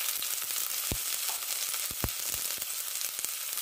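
Chopped onion, garlic and green chillies frying in hot oil with a little salt in a pan, a steady, dense sizzle broken by occasional sharp pops and clicks of stirring, close and continuous with no talk.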